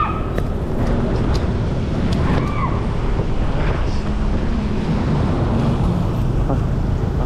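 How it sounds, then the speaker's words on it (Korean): Strong wind buffets the microphone outdoors on a walk in Manila, a constant loud rumbling roar that barely lets up across the whole stretch. "바람이 너무 많이 불어."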